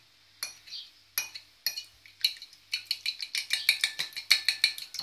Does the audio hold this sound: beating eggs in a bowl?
yes